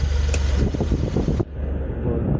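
Cabin blower of a Bada Dost i5 truck pushing a strong rush of air with the engine running, a loud broadband whoosh that abruptly drops to a lower, gentler airflow partway through.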